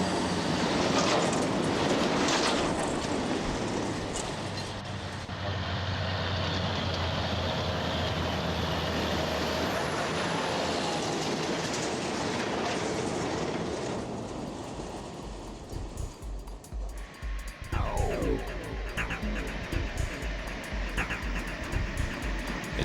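Cattle road train trucks grind along a rough dirt road near Top Springs, producing a loud, continuous rumble and rattle that turns into sharper, uneven clattering and jolts after about fifteen seconds.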